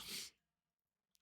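A single loud, breathy sneeze close to the microphone, cut off sharply and followed by near silence with a faint click at the end.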